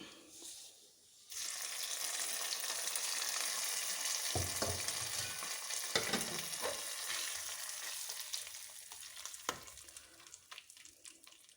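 Mustard seed tempering with onion, dried red chilli and curry leaves poured into a Kerala mushroom masala curry, giving a sudden loud sizzle that stays steady and bright, with a few spoon clinks and stirring knocks along the way.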